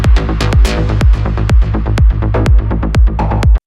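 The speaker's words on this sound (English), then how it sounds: "It's a Diva patch I made myself." A gritty, distorted stonk bass lead from a custom Diva synth patch plays a punchy, repeating pattern over a thumping kick, loud and dense with sharp transients throughout.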